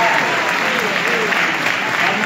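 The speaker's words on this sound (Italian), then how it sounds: "facciamo un applauso" An audience at a Passion play performance in San Lorenzo del Vallo breaks into dense, continuous applause that fills the hall at steady volume, with a faint voice underneath.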